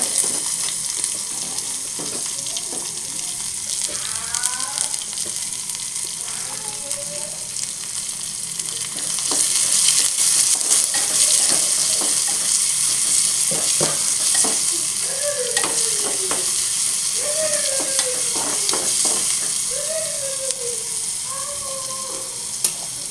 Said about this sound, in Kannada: 1-2 ಚಿಟಿಕೆ ಸಾಸಿವೆ ಹಾಕಿ ನಂತರ 1 ಉಳ್ಳಾಗಡ್ಡಿ ಸಣ್ಣದಾಗಿ ಹೆಚ್ಚಿಕೊಂಡು ಫ್ರೈ ಮಾಡ್ಕೋಬೇಕು